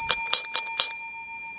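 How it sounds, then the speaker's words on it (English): A plain nickel-plated stainless steel counter call bell is struck four times in quick succession, each bright ding ringing close and clear, then a sustained metallic tone fades out alone. "Very ordinary, very plain, stainless steel, nickel-plated call bell, service bell, counter bell"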